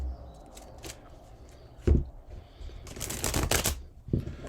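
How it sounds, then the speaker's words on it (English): Tarot cards are shuffled by hand in several quick bursts: soft riffling flutters separated by short pauses, close to the listener, with no talking. "Let's get a couple more shuffles"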